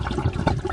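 A residential sump pump discharges water in a steady rushing, gurgling stream, close and fairly loud with no pauses.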